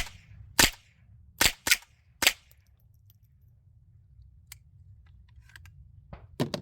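.22 rifle fitted with a Huxwrx Flow Ti suppressor, firing a mix of subsonic and supersonic rounds: four sharp, short cracks in quick succession, a long quiet pause, then another crack near the end.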